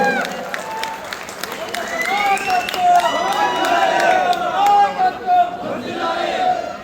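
A crowd at the Panchajanya Sankalpa Sabha public meeting in Korutla claps and cheers loudly, with scattered applause and shouts swelling and fading under a voice on the loudspeaker.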